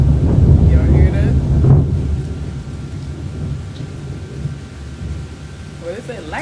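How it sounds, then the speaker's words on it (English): Thunder from a thunderstorm rumbles low and loud throughout, with steady rain and wind noise around it and a faint voice near the end. "It's about to start thundering."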